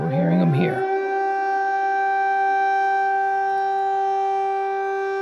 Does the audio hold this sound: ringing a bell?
no